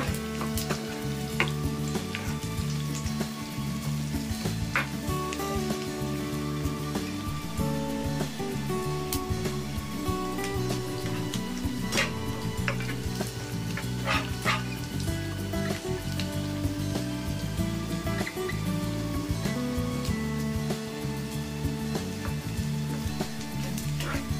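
Onions fry in a pan until golden brown for a potol chingri bharta, a loud, continuous crackling sizzle with popping bursts that carries on steadily without any talk.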